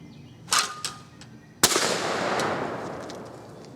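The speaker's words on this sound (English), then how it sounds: "I'll take another shot here and see how well this little gun will handle these shells" A Savage 220 shotgun fires shells outdoors: a sharp loud blast followed by a long fading rumble, with a few softer knocks and clicks beforehand.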